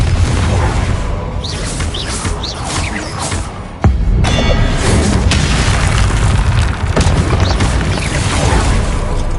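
Confringo explosion spells in Hogwarts Legacy: a loud, dense roar of magical blasts and bursts continuing throughout, with one sharp crack partway through and a voice shouting spell names.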